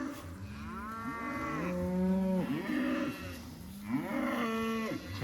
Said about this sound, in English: Cows are going after it.